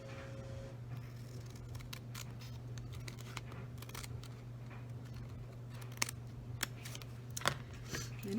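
Scissors snip and trim paper for a journal page in a series of short, crisp cuts, fairly close and quiet over a steady low hum.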